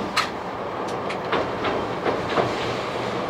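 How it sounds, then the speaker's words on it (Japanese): A train on the Minami Alps Abt Line in Shizuoka crosses the Okuoigawa Rainbow Bridge. Close, steady rolling rumble is punctuated by a few sharp clicks of the wheels over rail joints, with no talking. "列車は再び奥大井レインボーブリッジを渡っております。"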